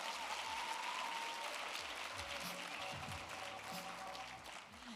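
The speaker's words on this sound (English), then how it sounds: "Please give yourselves a round of applause." Applause from the audience at the Agri's Got Talent 2022 finals, a steady wash of clapping from a crowd that is fairly faint and distant, with some low rumbling underneath, tapering slightly at the end.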